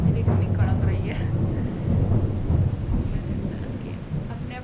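Thunder rumbles deep and heavy through steady, heavy rain, with low rolling booms rising and fading over continuous rainfall on surfaces, a voice faintly present beneath the storm.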